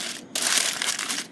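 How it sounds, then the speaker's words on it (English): Greaseproof paper is pressed down into a baking tin for flapjacks, giving a close, brief burst of crinkling and crumpling that softens toward the end. "So you just push in your greaseproof paper."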